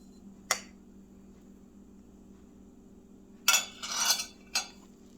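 A utensil clinks against a baking dish while sugar and salt are mixed into rice: one sharp tap, a pause, then a brief cluster of scraping clinks and a final tap, all fairly close.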